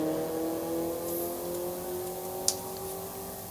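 Ford Mustang at a drag strip, engine note steady and fairly distant, a sustained droning rev with a brief sharp transient midway, no talk over it.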